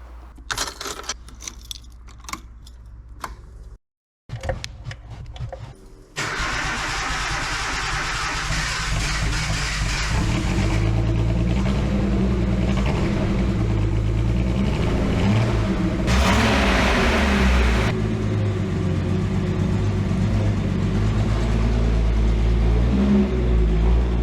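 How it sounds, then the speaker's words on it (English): A Datsun 280Z S30 engine turns over and settles into a steady, loud idle after some brief clicks and handling noises, running continuously up close with a short rise in roar partway through. "it does run, turns over pretty well"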